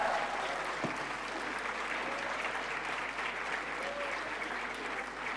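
A theatre audience at Teatro Oriente in Chile applauds Isabel Allende at the close of her book presentation, a steady dense wash of clapping from a large crowd throughout.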